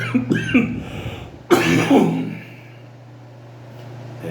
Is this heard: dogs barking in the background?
no